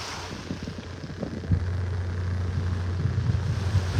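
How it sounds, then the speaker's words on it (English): Generators hum steadily in the background on Vanderbilt Beach in North Naples, Florida, a low constant drone under faint surf and outdoor ambience. "You can hear the generators running in the background."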